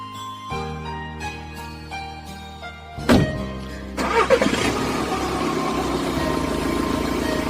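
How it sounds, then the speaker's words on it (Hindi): A car door thunks shut, then the engine cranks and catches and settles into a steady running drone as the car sets off, heard close against soft background music with no talking. "दोनों गाड़ी में बैठते हैं और फिर गाड़ी स्टार्ट होती है।"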